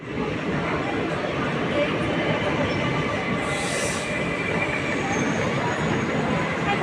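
Passenger train running, heard from inside a carriage: a loud, continuous rumble and rattle of wheels on rails with a brief high squeal midway.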